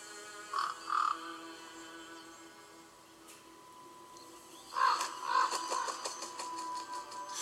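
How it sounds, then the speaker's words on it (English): A crow caws in the animated series RWBY: two harsh calls near the start, then a quieter stretch and a denser cluster of caws, heard over a faint steady background tone. "Crow."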